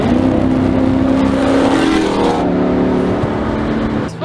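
Car with a 5.7 Hemi engine and JBA shorty headers, a loud close engine roar with a rising tone that cuts off sharply partway through, followed by a lower rumble and a brief squeal at the end.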